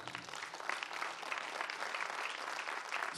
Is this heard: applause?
yes